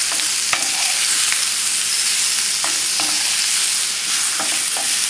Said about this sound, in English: Constantly mixing them to make sure they cook evenly